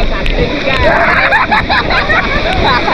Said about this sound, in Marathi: आता पाण्याचा फोर्स ना वाढला. पाणी ढकलते पुढे.